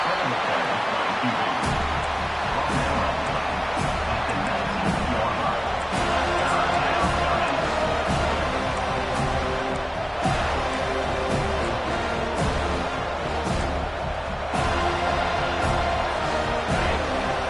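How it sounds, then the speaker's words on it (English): A stadium crowd roars steadily at a Clemson vs FSU college football game, a dense, continuous wash of cheering and noise with occasional sharp thumps, as the home defense plays in the red zone. "the crowd coming to life here, trying to help this defense down in the red zone"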